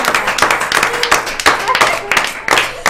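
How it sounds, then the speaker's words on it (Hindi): Audience applause at a Bihar women's contest event after a timed game, loud, close clapping in uneven bursts with a few sharp hand claps standing out. "आप सबके लिए जोरदार तालियां।"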